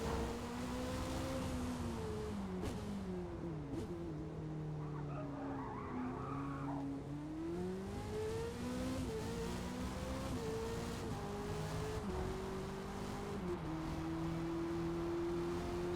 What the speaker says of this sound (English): Car is screaming at me right now.